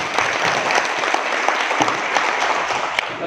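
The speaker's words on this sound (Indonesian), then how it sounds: "Ya, tepuk tangan dulu kita semua." An audience at a regional village council working meeting in Kutai Kartanegara gives steady, loud, continuous hand-clapping applause, with sharp individual claps standing out.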